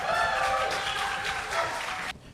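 A burst of applause from a crowd, dense clapping that holds steady for about two seconds before cutting off abruptly.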